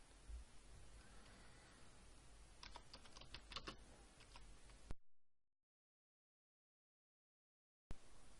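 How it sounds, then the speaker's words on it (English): Typing on a computer keyboard while entering a blog post, rapid quiet key clicks for a few seconds before the sound cuts to full silence, then briefly resumes. "let's type in a post"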